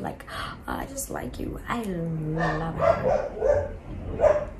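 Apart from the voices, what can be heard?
dogs barking in the background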